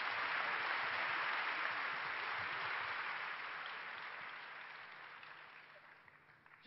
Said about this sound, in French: Applaudissons-les parce que c'était vraiment formidable.